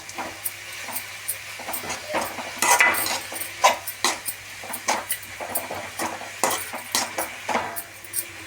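Vegetables seasoned with asafoetida sauté in a pan for carrot rice, with a hissing fry under frequent metallic scrapes and clinks of a spoon against the pan, near and irregular.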